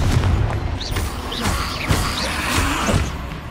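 Confringo spell explosion in the Hogwarts Legacy video game, a cluster of close booms and crackling blasts layered over a dense rumbling game soundscape, with no voices.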